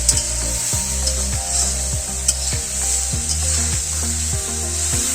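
Drumstick (sajna) pods frying with spices in a pan over low heat while being stirred: a steady close sizzle broken by regular scraping strokes of the spoon, with no voices.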